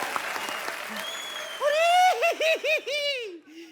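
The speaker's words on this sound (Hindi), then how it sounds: "जोरदार तालियां।" Studio audience applause on a Hindi comedy talk show, a full burst of clapping that thins out after a second or so, followed by a lively, melodic voice calling out.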